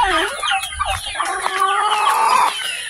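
Chickens and turkeys at feeding time on a provincial farm, loud overlapping clucking and gobbling near at hand, with rising squawks and turkey calls running continuously through the flock.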